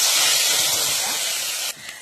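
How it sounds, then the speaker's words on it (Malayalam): Mustard seeds splutter in hot coconut oil for a Kottayam-style fish curry, a loud, close, continuous sizzling hiss that drops away sharply near the end. "കടുകിനെ ഇട്ട് അങ്ങോട്ട് പൊട്ടിക്കുക."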